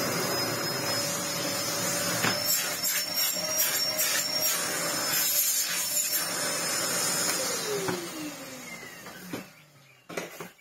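A restored Hoover Purepower U3430 Wasp Edition vacuum cleaner runs steadily with a strong, close, droning motor whine and rushing airflow, then winds down near the end with a few clicks.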